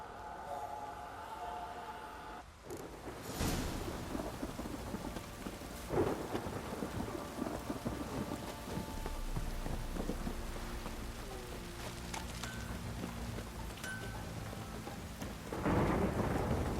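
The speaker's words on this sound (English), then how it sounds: "This downpour's a bastard, it is." Heavy rain pours steadily while rolling thunder rumbles repeatedly in the video game The Witcher 3: Wild Hunt, with a loud crash near the start and another toward the end.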